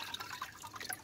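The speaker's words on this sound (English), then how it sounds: "Remove it and let drop the water." Water drips and trickles off a sheet of recycled paper just lifted out of a water bath, faint close-up patters and small splashes in a quick irregular run.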